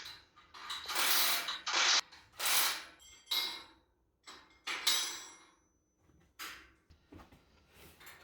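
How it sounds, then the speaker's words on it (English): Metal U-bolts being fitted onto the underside axle plates of a teardrop trailer under construction: a series of close, irregular clanks and scraping bursts separated by short pauses, with no talking. "I'm now actually mounting the U-bolts onto the plates that go underneath."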